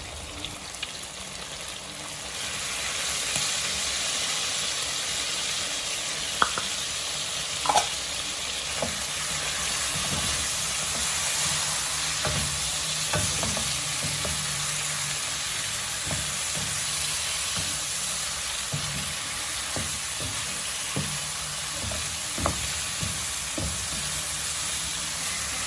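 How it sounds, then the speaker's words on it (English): Garlic sizzles steadily in a hot pan for Swahili biryani, a continuous frying hiss with occasional soft stirring clicks and scrapes throughout. "Let the garlic cook and turn a little bit goldenish"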